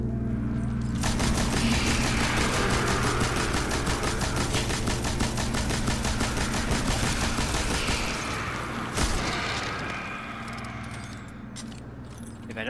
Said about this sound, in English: This machine gun is really good.